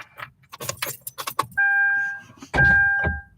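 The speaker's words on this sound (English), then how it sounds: "I've got to roll down the window a little bit in this car" A car's power window motor whines as the glass rolls down in two steady bursts, close and fairly loud, preceded by a quick flurry of jangling keys and clicks inside the car.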